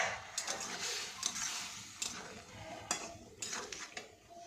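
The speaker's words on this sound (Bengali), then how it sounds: "এবার ঢাকনা খুলে আর একবার নাড়াচাড়া করে দিচ্ছি" Vegetable stalks being stirred in a pan once the lid comes off, giving intermittent scraping clatters of a utensil against the metal over a soft steady background hiss, with no talking.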